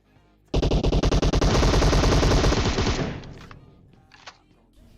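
A rapid automatic burst of gunfire in the PUBG Mobile battle royale game, loud and evenly spaced shots for about two seconds, then a sustained blast fading into a few distant scattered reports.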